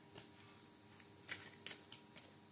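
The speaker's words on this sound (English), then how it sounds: "So let's shuffle these cards." Tarot cards are shuffled by hand at close range, with soft riffling and a few sharper card flicks over a quiet room, no talk.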